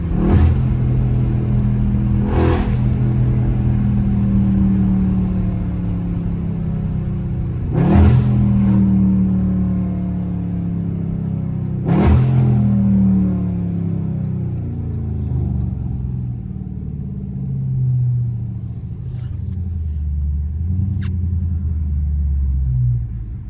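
A Dodge Scat Pack's engine rumbles and revs loudly during donuts in the rain, a sustained throaty drone with sharp rev surges at intervals, close and dominant throughout.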